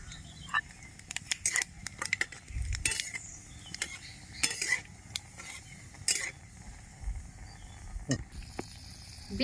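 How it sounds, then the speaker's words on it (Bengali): Dry red chilli and nigella seeds sizzle in hot oil in a kadai, with a soft frying hiss broken by frequent sharp metal clinks and scrapes of a utensil against the pan. "কড়াইয়ের তেল গরম হয়ে গেছে একটা শুকনো লঙ্কা ফোড়ন দিয়ে দিচ্ছি কালো জিরে দিয়ে দিচ্ছি"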